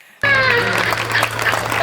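Audience applause rises abruptly at a Hindi comedy poetry show, a loud, steady wash of clapping that sustains after a near-silent start, with a brief voice over it.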